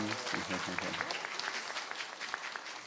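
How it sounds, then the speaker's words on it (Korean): Audience applause at a school entrance Mass and ceremony, greeting a new student who sang a hymn; steady clapping from a crowd fills the room for about three seconds, with some voices mixed in. "우리 박수를 한번"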